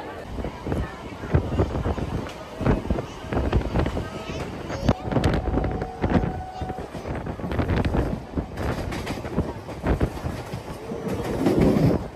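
Train noise at Dum Dum station on a cloudy day: rumbling and clattering with intermittent clacks and a brief tonal squeal, fluctuating in loudness throughout.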